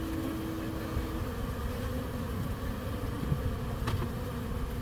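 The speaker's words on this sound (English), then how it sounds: "There's bees in the top, which is no problem." Honey bees buzz at a hive during a check before honey harvest, a dense, continuous droning hum, steady and fairly close, with no talking.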